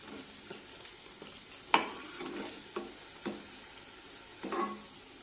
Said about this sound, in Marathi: पहा किती छान सोनेरी रंगावर हे ब्रेड रोल तळले आहेत